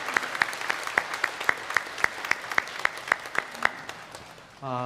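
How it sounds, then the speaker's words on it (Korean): A church congregation at a Sunday worship service claps in a steady, evenly spaced rhythm, the claps close and crisp, before a brief sustained tone enters at the very end. "잠깐 일어서시면 우리 박수로 환영하도록 하겠습니다"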